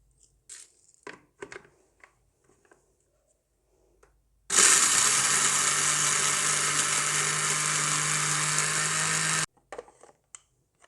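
A mixer grinder's spice jar powders coarsely crushed rock sugar (mishri), a loud steady whirring roar lasting about five seconds, with clattering handling noises before and after.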